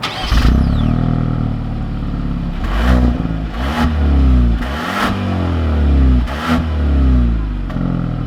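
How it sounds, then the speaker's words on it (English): A 2020 Genesis G70 with the 2.0-litre turbo engine starts up and is revved several times, rising and falling in pitch through a close, loud run of engine surges. "let's take this G70 out and see how it drives"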